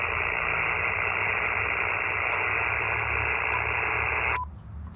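Steady hiss of single sideband amateur radio receiver noise from an Icom IC-705 at a portable outdoor station, even and unbroken for over four seconds before cutting out abruptly near the end.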